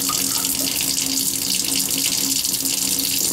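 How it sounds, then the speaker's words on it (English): Water gushes steadily from an open tap while pipes are bled during winterizing of a barn's summer apartment, a loud continuous rushing splash that stays unbroken throughout, with no voices. "I'm gonna go around and bleed everything. Pushing all the water out, the hot, and we'll do a cold also."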